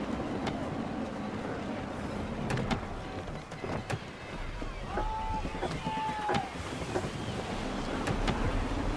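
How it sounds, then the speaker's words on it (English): Gusty wind at sea in Assassin's Creed 3, a steady broadband rush with creaking and sailing-ship ambience, carrying on throughout with brief voices and sharp knocks. "Gusty winds can be difficult to manage."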